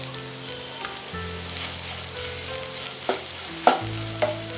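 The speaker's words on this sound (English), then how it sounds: "Keep on frying for another 2 to 3 minutes." Soya chunks fry in oil in a pan, giving a steady close sizzle with scattered scraping clicks from stirring and a low hum underneath, without any talking.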